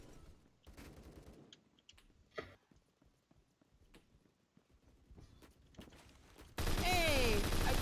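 Tap firing of an HK21 machine gun in Roblox Phantom Forces: sharp single and paired shots spaced irregularly across several seconds, followed by a sudden loud blast of game noise at the end, with talking in between.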